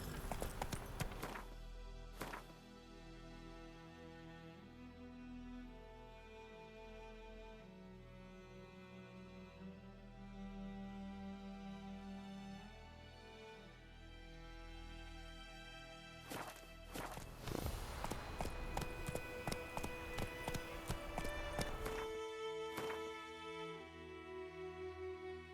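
A horse in The Witcher 3 runs with rhythmic hoofbeats, steady and moderately close, under game music and ambient sounds, with a few loud bursts along the way.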